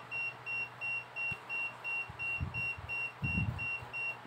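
A Fluke 15B Max digital multimeter sounds its input alert alarm, a rapid, regular series of short high beeps, with some faint handling bumps and thumps underneath.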